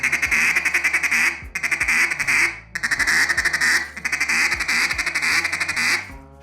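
Duck call blown in a rolling feed broken into short bursts with drags, a rapid string of loud nasal quacks in rhythmic runs separated by brief pauses, close and alone.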